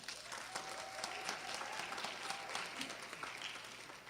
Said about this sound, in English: Please give a round of applause for Kareem Hines.